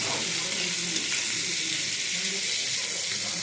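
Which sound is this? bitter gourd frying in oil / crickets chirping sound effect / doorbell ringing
bitter gourd frying in oil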